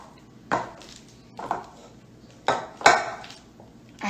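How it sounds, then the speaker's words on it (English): A meat masher thumping and scraping food in a bowl, four separate clanking strikes spaced about a second apart, close and fairly loud in a quiet kitchen. "I'm using my meat masher."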